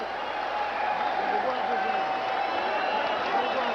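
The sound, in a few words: boxing crowd in Phoenix standing and applauding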